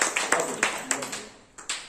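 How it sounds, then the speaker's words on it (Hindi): A school audience at a parents' session gives the teacher a short, scattered round of handclaps, with a few sharp individual claps spaced out and fading, fairly quiet. "सर के लिए जोरदार ताली होनी चाहिए, जोरदार ताली चाहिए।"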